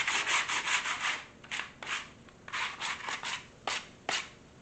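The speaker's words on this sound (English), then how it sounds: "just going to give it a light sanding" Light hand sanding of a rough edge on a wooden piece for a couch repair, a series of short, close, rhythmic scratchy rubbing strokes in quick bursts with brief pauses.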